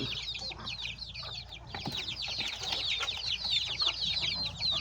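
Chickens cluck and chatter continuously, a busy flock nearby with steady overlapping calls.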